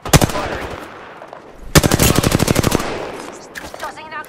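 Automatic gunfire from Apex Legends gameplay, a rapid burst of loud close shots, a short pause, then a longer sustained burst, with faint game sounds trailing after.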